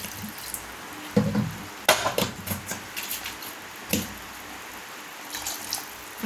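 Water splashes and patters into a cooking pan of egg curry in a few uneven bursts, followed by quieter trickling and light clinks.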